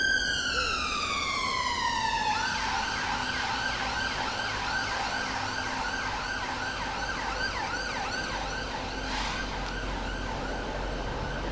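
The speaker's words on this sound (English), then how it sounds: "Oh, two ambulances." An ambulance siren wails up close on a London street, its pitch sliding down as it passes, then settling into a steady repeating warble over traffic noise.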